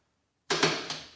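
Door module in a VW Mk IV Golf, Jetta or Bora operating as the door is closed: a sudden close mechanical clunk followed by a second click and a rattling latch snap, short and alone without talk.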